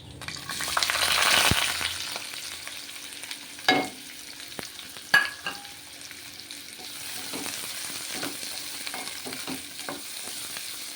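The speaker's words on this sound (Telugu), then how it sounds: "అవి బాగా వేగినాయి ఉల్లిపాయలండి" Onions frying in a pan for egg masala curry, a steady sizzle with a few sharp clicks and scrapes of stirring, close and moderately loud, with no talk.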